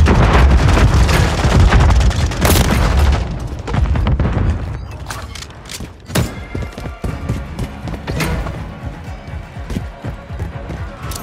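Heavy booms and bursts of gunfire from a Modern Warfare shooter match, including a stun grenade going off, loud and dense at first and then thinning into scattered sharp shots and clatter.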